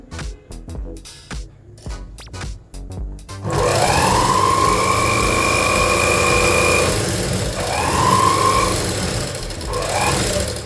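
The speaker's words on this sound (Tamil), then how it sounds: "இந்த ஃபுட்டை வந்து ப்ரெஸ் பண்ணுறேன். எப்படி ஸ்டிச்சஸ் வந்து போகுது அப்படின்னு பாருங்கள்" A manual sewing machine fitted with an electric motor starts with a few short bursts of stitching, then runs continuously with a loud whirring hum that rises and eases as stitching speed changes.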